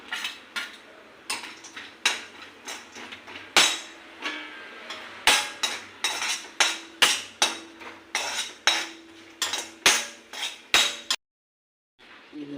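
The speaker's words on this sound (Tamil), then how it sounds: "முந்திரியெல்லாம் போட்டு வறுத்து" Cashews roasting in a pan for laddu, stirred with a metal spoon that knocks and scrapes against the vessel in a steady rhythm of loud clanks, about one per half second, then briefly stops near the end.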